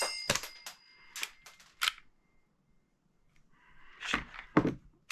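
An Umarex/VFC H&K P7 M13 gas blowback airsoft pistol, low on gas, fires weakly. Several short, sharp clicks and pops come in uneven bursts with quiet gaps between them, close and moderately faint.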